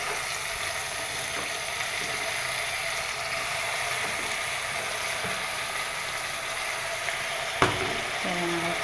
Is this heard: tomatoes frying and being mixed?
yes